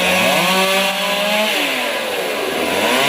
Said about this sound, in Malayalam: മരം മുറിച്ചു മാറ്റാനുള്ള നടപടികൾ പുരോഗമിക്കുന്നു